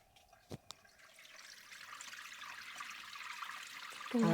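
Two sharp knocks, then water trickling and splashing that grows steadily louder, heard close by and alone.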